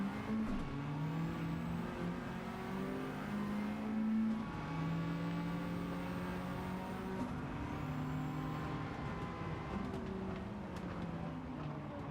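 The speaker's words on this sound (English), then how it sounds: "Sounds like it's got anti-lag." Race car engine with anti-lag in a driving video game, a sustained droning engine note that rises and falls in pitch as the car accelerates and shifts, loud and steady with no talk over it.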